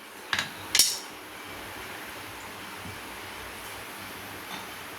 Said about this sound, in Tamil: கொஞ்சமாக கடுகு சேர்த்துருக்கேன். கடுகு பொரியட்டும்.